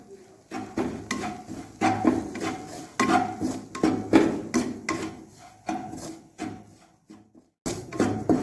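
A spoon or spatula scrapes and stirs gram flour roasting in a pan, making repeated rhythmic rasping strokes close up, with a brief pause near the end.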